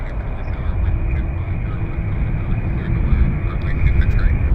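A Boeing 787 at Vancouver Airport produces a steady, loud jet roar with a deep rumble that holds without a break throughout.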